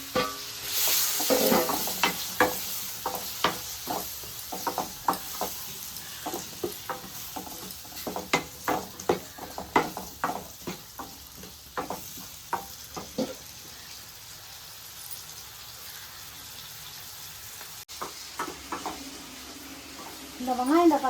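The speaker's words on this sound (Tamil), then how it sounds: "இந்த வெங்காயம் தக்காளிலாம் நல்லா வதங்கிட்டு இருக்கட்டும்" Chopped onions and tomatoes sauté in oil in a pan for a South Indian eggplant curry, a soft steady sizzle under repeated scraping stirs of a spoon, with a voice talking at times.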